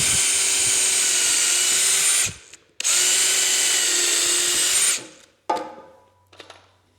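A power drill bores a pilot hole in 2x4 wood, giving two loud close whirring bursts of about two seconds each with a brief pause between them, then a bump and faint handling sounds.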